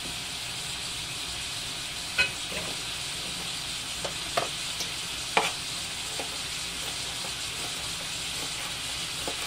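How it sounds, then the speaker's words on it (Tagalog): Pork cubes and chicken liver sauté in a pan, a quiet, steady sizzle with a few scattered sharp clicks and scrapes of stirring, heard alone without talk. "Saute lang natin mga kapalangga"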